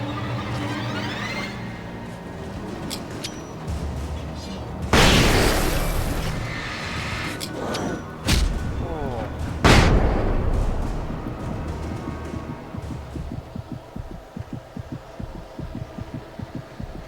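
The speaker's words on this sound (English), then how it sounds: "Flashbangs, man, they're so rubbish. I mean, they're good, but they take so long to go off." Flashbang grenades go off in the video game Alan Wake Remastered, three sharp loud bursts spaced a few seconds apart over a humming, rumbling game soundscape.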